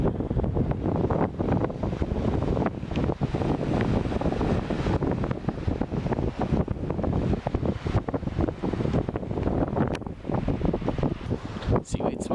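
Strong wind buffets the microphone by the water, a loud, continuous gusty roar with rough bursts throughout and faint surf beneath.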